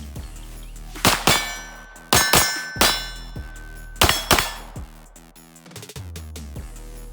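Ten shots fired in rapid succession from a 1911 pistol at a range, sharp loud cracks with ringing metallic tails spaced irregularly, tapering off near the end.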